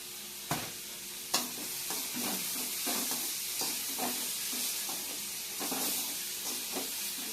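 Beetroot sautéing in a pan with salt for chutney gives a steady sizzle, with repeated scraping stirs and a couple of sharp clanks near the start, close and moderately loud with no talking.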